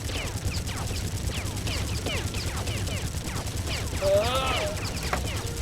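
Machine-gun fire in a Crimson Skies aerial dogfight, steady rattling bursts over a constant droning aircraft engine, with a voice speaking partway through.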